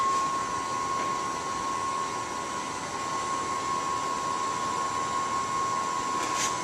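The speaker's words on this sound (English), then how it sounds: "Now you see your stitcher heads moving to home." A Duplo DC1060 booklet maker runs as its stitcher heads and trimmer move back to home, a steady whirring motor drone with a thin constant whine, no voices.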